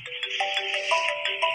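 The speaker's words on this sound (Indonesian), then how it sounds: "Oh, ada telepon." A phone ringtone plays in the video game Robot Legends, a bright repeating electronic melody of short, steady tones, loud and clear with no talking over it.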